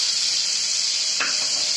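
Eggplant seasoned with salt and turmeric fries in hot oil, making a steady bright sizzling hiss, with a short stirring scrape partway through.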